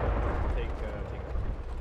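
Weapon fire in the mech combat game Mechwarrior Living Legends, a steady rumbling barrage of heavy booms running continuously under a voice giving orders.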